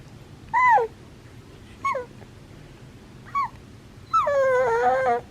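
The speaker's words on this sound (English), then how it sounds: "you're doing your sleepy noise" A five-month-old baby lets out soft, high-pitched sleepy whimpers: three short whines spaced apart, then a longer wavering one, close by over quiet background.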